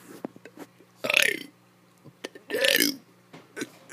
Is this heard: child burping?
yes